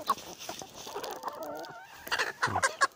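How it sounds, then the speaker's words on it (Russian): Chickens cluck close by on a farm at feeding time, with quick, uneven bursts of clucks and squawks that grow busier toward the end. "Иди, тут самая крупная курица."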